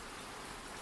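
Steady rain hisses softly and evenly, faint and continuous with no voices, a calm wash of falling drops for relaxation listening.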